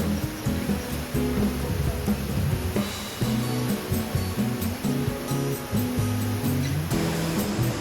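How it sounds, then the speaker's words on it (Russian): Tallest indoor waterfall in Canada, inside a tropical conservatory with large fans stirring humid air: a loud, continuous rushing roar of falling water with a low rumbling undertone and no talk. "а от водопада, который самый высокий водопад Канады внутри помещений"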